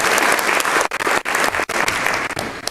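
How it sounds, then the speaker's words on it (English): Loud, sustained applause from a conference audience for a panel at a national healthcare leadership kick-off event in Orlando, Florida, dense clapping with a few brief dips. "Please, another round of applause."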